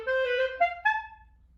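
A clarinet plays a few short, clipped notes, each ending abruptly with brief silence between, clear and close with no one speaking.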